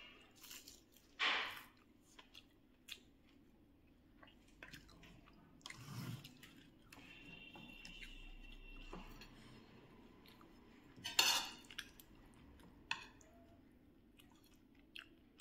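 Someone eating a lunch of khichuri with cabbage and fried eggplant fritters, with soft, wet chewing and a few sharper bites spread across a quiet room, close to the mic and without talk.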